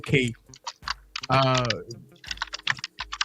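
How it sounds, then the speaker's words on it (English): Rapid clicks of a computer keyboard being typed on during a livestreamed tech chat, sharp irregular taps in short bursts, with a voice talking over part of it. "Somebody typing?"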